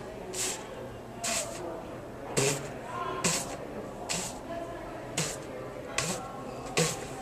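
A voice imitates a vocal-percussion puff, a breathy "pf" burst with no vowel, repeated about eight times at a fairly steady pace, close and clear.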